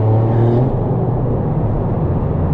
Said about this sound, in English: Let's do it in third gear. Toggle, accelerate, let go.